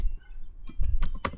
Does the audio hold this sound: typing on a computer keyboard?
yes